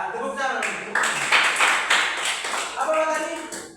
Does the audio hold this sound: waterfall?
no